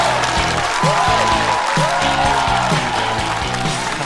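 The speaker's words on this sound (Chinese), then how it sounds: "掌声欢迎贾浩" A stand-up comedy audience claps to welcome a comedian onto the stage, a dense, steady burst of applause heard at close range.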